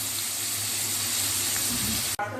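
Chicken frying lightly in a pan for homemade biryani, a steady broadband sizzle hissing continuously and close, then cutting off sharply near the end before a quieter sizzle resumes.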